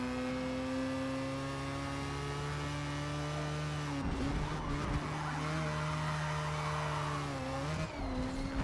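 A simulated race car engine from a racing video game drones at steady high pitch through long corners, dipping briefly as it shifts, with faint tire squeal; loud and continuous.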